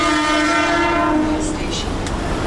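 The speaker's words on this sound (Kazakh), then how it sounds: "Міне осындай қалалық пойыз." An Indian city commuter train rumbles steadily with a long, loud horn blast sounding over it, then the horn fades and the clatter of the carriages carries on.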